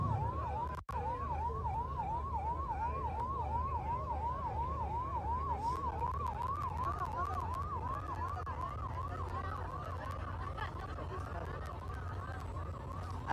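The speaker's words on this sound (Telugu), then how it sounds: "అంబులెన్స్ దారి ఇవ్వండి, అంబులెన్స్ దారి ఇవ్వండి అమ్మా" An ambulance siren wailing in a fast, regular up-and-down cycle, steady and fairly close, as it works its way through a crowd at a political gathering, with a low murmur of people underneath.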